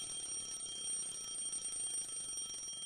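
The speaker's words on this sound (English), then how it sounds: "The alarm clock is making a terrible racket." An alarm clock rings continuously inside the video game Lucy, its steady, insistent electronic tone sustained at moderate loudness for about three seconds with no voices over it.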